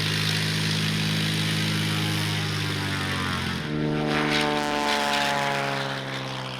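A light propeller plane drones steadily from inside the cabin while flying over the Rift Valley in Kenya's Maasai Mara region, the engine pitch shifting slightly midway, loud and continuous with no voices.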